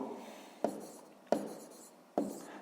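A pen writes on paper during a sixth-grade maths exercise: three separate bursts of close, soft scratching strokes, each starting with a sharp tap and trailing off, spaced under a second apart.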